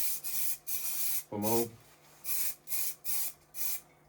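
Short bursts of transparent rust-reactive coating sprayed onto Škoda 110R door handles, six or seven close hissing puffs with brief pauses between them, and a short spoken word in the middle.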